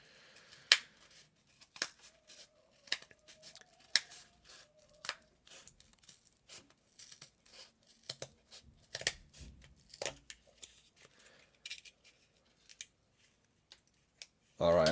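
Scissors cut through cardboard for a DIY laptop mount with a sequence of sharp, close snips and crunching cuts, irregularly spaced and quiet between strokes, building to a louder burst at the end.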